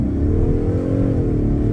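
A Dodge Challenger accelerates hard from a standstill, its engine revving up in a loud, rising roar that holds steady for a moment before easing off slightly.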